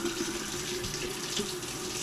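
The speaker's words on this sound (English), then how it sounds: "I'm just going to fill it the rest of the way with water" Tap water runs steadily into a jug while making homemade cranberry raspberry juice concentrate, a continuous close splashing rush with no voices.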